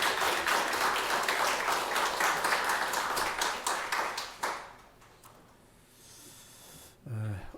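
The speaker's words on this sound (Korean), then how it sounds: "우리 하나님께 감사와 영광의 박수 올려드리겠습니다" Congregation applauding during a Korean Sunday morning worship service, a dense, steady wash of clapping that fills the room for about four and a half seconds before fading into quiet room noise, with a voice at the end.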